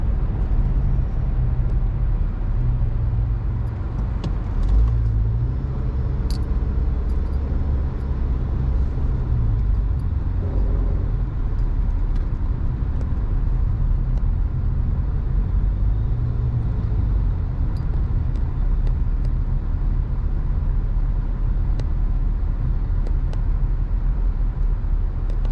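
Road traffic streams past on a Washington DC street at a long traffic light, a continuous loud rumble of cars and engines with passing vehicles blending into a steady roar.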